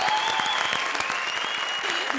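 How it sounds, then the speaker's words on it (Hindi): A studio audience at the Hindi comedy show Comedy Circus Ka Naya Daur claps loudly and steadily, with dense continuous applause and some faint whistles over it. "जोरदार तालियां"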